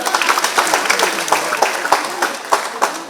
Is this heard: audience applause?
yes